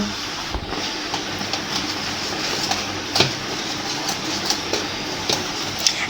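Steady brisk whisking of malpua batter with lukewarm water by hand, a rapid scraping and tapping against a bowl with a few sharper clinks, continuous throughout, no voices.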